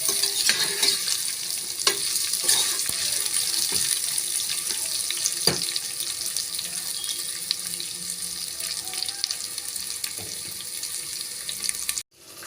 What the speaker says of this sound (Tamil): ஒரு நிமிஷம் போல எண்ணெயிலே ஃப்ரை பண்ணிக்கலாம்.